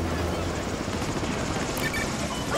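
Helicopter rotor thrum in Modern Warfare 2 Remastered, a loud continuous chopping roar that fills the whole clip, with a brief sharp sound near the end.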